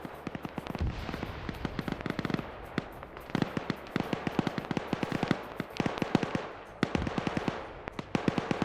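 Gunfire in a military shooter game battle: dense bursts of sharp rifle shots, some rapid and clustered, others spaced, crackling steadily at moderate distance, no speech.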